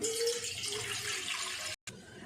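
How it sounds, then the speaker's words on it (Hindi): Milk poured into a cooking pot already wetted with a few spoonfuls of water, a steady close liquid splash and trickle that breaks off briefly near the end before resuming. "अब इसमें दूध ऐड कर देंगे।"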